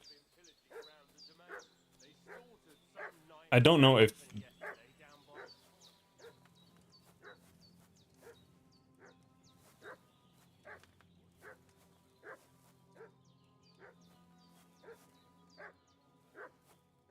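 A dog in the video game Kingdom Come: Deliverance barks over and over in a steady, evenly spaced rhythm, with one loud, harsh burst early on, while someone talks quietly underneath.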